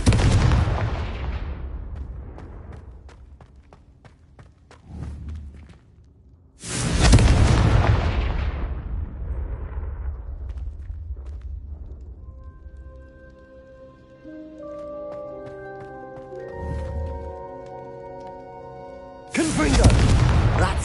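Confringo spell explosions from a video game: several loud, booming blasts with long rumbling tails, separated by quieter stretches where a tonal musical sound rises before the next blast.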